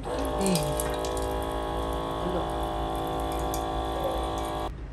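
Water running steadily from a kitchen tap during cooking, a continuous splashing stream over a low electrical hum that stops abruptly near the end, with someone speaking briefly over it.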